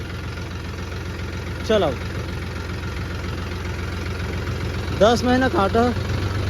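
A tractor engine idles steadily with a low, rumbling, even throb. Someone speaks briefly over it twice.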